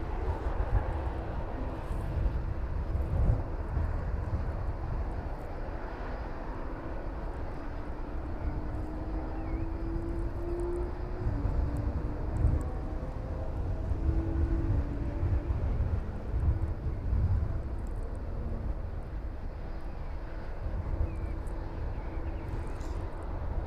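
Boeing 757 airliner taxiing and turning at East Midlands Airport, a steady low engine rumble with a faint tonal whine, continuous and moderately distant under light wind noise.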